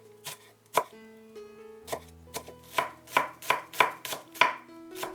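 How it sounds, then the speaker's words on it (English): A knife chops two shallots on a cutting board, about a dozen crisp, close strokes that quicken into a steady rhythm, with no talking. "Also cut 2 shallots."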